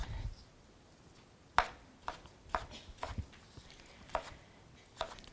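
A knife chops fruit on a cutting board while preparing grilled angel food cake with peaches and raspberries. Sparse, sharp chops are spaced irregularly, fairly quiet and close.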